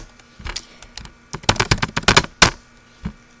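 Someone types a command on a computer keyboard. A quick, uneven run of close, crisp key clicks, loudest in a fast burst in the middle, then a final single keystroke.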